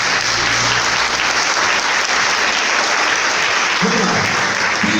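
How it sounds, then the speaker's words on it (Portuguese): A prayer group applauds the word of God with loud, steady, continuous clapping throughout, and a brief low hum rises near the end. "Vamos aplaudir a palavra de Deus"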